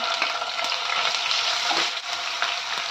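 Green chillies and ginger garlic paste fry in a hot pan for gongura chicken, giving a loud, steady close-up sizzle with faint stirring scrapes and no talk.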